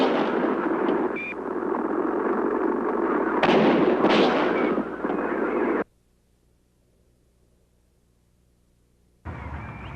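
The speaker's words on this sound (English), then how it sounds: "the dictabelt of motorcycle officer H.B. McLean, which Mack discovered had, on the day of the assassination, accidentally recorded at least 4 gunshots" Police motorcycle dictabelt recording from the day of the assassination, a continuous loud hiss and crackle with a few brief sharp bursts, then near-silence for several seconds before noise resumes.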